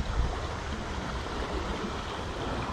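River water rushing steadily past, a broad continuous wash of flowing noise, fairly faint and even, with no voices over it.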